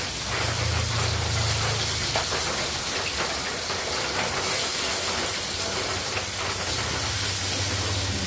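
Onions hit hot oil in a pan already holding whole spices like cardamom, cloves, cinnamon, dried chilli and bay leaf, giving a loud, unbroken sizzling hiss that stays close and steady throughout.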